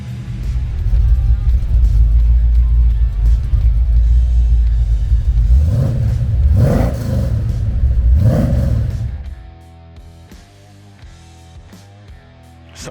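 A 1955 Chevrolet resto mod's engine rumbles loudly at idle, then revs sharply twice in quick bursts before dropping to a quieter, steadier idle near the end.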